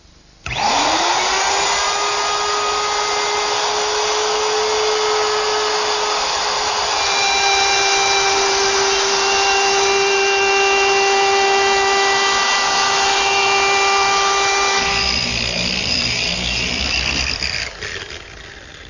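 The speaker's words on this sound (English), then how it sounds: "when you're trying to trim a very thin veneer like this, safety really isn't the factor" A router trimming the edge of thin wood veneer on a shop cabinet, a loud, steady, high-pitched whine that spins up, holds for about fifteen seconds, then shifts in tone as the cut changes near the end.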